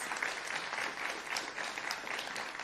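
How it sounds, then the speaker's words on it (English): An audience at an award ceremony for a food systems innovation challenge claps steadily, with dense, even applause that holds for the whole stretch at moderate distance and no talking over it. "Big round of applause."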